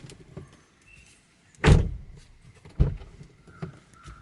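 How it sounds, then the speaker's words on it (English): A Kia Sonet GTX+ diesel car door swings shut with a solid, dull thud, followed by a second softer clunk a moment later against a quiet background. "So I just want to show you how the door shuts and opens."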